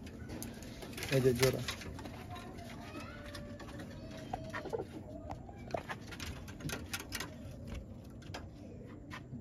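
Pigeons in a loft coo softly beneath a voice talking, low murmuring calls with scattered wing flutters and ticking noises, including old Rajshahi red pilong birds.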